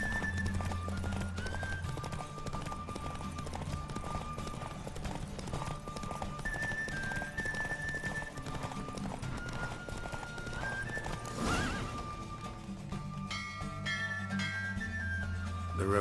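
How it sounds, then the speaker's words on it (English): Galloping hooves pound rapidly during a horse race in the video game The Witcher 3, with neighs over swelling orchestral music, close and steady throughout. "Don't spare the horse!"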